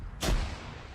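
A single heavy gunshot in a military-simulation video game operation: one loud, booming report with a short rumbling tail, heard alone.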